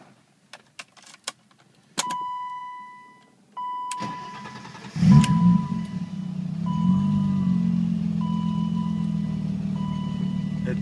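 A 1991 BMW 325ix all-wheel-drive sedan: key clicks and a chime, the starter cranking, then the engine catching and settling into a steady, fairly loud idle hum.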